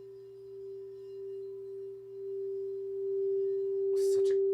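Crystal singing bowls tuned to Solfeggio frequencies ring with a pure, sustained, steady tone, faint and smooth, with a brief soft knock near the end.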